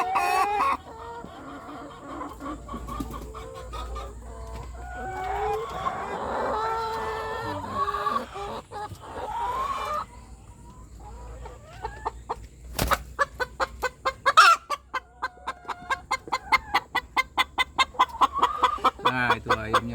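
Chickens kept as laying hens cluck repeatedly right after one lays an egg, a busy run of close calls with a rooster-like cackle and a fast rhythmic burst of clucks toward the end.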